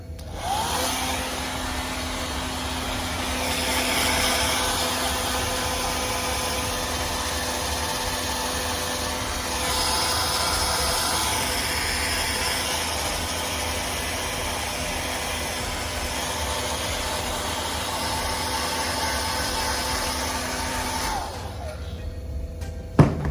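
A hair dryer blows steadily with a constant whirring hum for over twenty seconds while drying shoes, then switches off with a brief clunk at the end.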